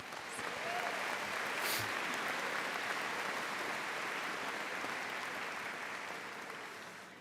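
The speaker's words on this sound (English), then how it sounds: "Let's give a round of applause." Audience applause at a college commencement ceremony for the natural sciences graduates, a steady wash of clapping across a large hall that holds evenly for several seconds before tapering slightly.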